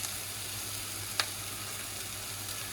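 Eggplant frying in a pan gives a steady, quiet sizzle that runs throughout, mid-way through cooking, with one brief sharp crackle partway as garlic goes in.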